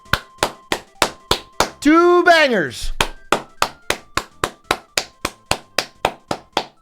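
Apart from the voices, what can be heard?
round of applause, clapping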